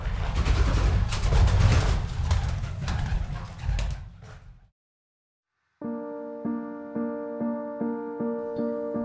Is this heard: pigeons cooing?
yes